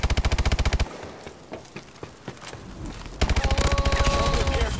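Loud automatic weapon fire in a shooter game opens the moment, fades to scattered distant shots and clatter, then a dense rapid burst returns over tonal game sounds.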